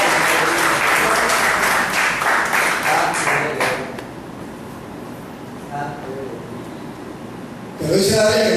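A church congregation breaks into loud, sustained applause during a sermon, the dense clapping filling the first few seconds before fading out. A preacher's voice then carries on alone, with a brief burst of sound at the very end.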